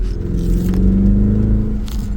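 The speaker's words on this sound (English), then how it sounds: "Just running the brakes because they have a lot of surface rust on" A Jeep Grand Cherokee SRT8 with a 6.1L HEMI rolls along as its surface-rusted brakes are applied. A low, steady engine hum is overlaid with a faint gritty scraping and rumble, heard alone.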